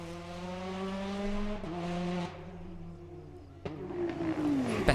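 A Peugeot 208 T16 rally car on an asphalt rally stage in the Antibes-Côte d'Azur area, its engine droning and shifting pitch through gear changes, with rising revs toward the end. The car sounds fairly close and steady, with no talk.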